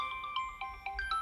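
A mobile phone rings with a short, bright melodic ringtone of repeating tones, close by and clear, with no one talking over it.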